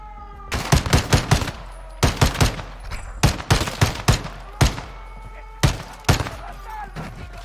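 Gunfire in a Call of Duty campaign mission on the hardest difficulty: loud, close clusters of rapid shots in several bursts separated by short pauses, with faint background noise between them.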